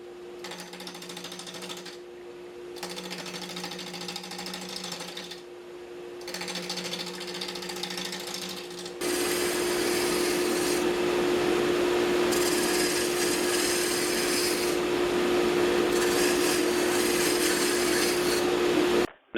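A wooden log spinning on a wood lathe started at low speed on the smallest pulley, a steady motor hum with rhythmic rubbing bursts, then a louder, denser whir and scraping as the cut continues, close and without talk.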